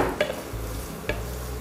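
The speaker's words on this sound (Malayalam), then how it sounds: "നമ്മളിതിലേക്ക് നമ്മൾ നേരത്തെ വറുത്ത് വെച്ച ചിക്കൻ ഇതിലേക്ക് ആഡ് ചെയ്തു കൊടുക്കാം" Fried chicken tossed with onion, garlic and ginger in a hot pan gives a steady close sizzle, broken by two sharp scrapes of a spatula against the pan.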